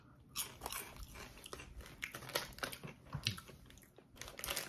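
Lay's classic salted potato chips crunch and get chewed close to the microphone, a quick run of crisp bites and crackly mastication for several seconds, with no talking.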